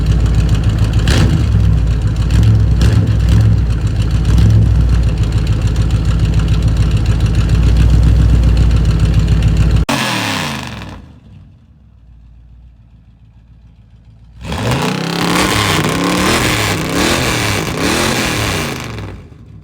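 A car engine runs loud and rough, then drops to a low idle for a few seconds before revving up hard again.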